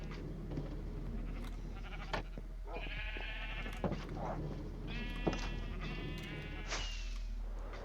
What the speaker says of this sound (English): So we can find some sheep and lock them away to produce wool for the castle.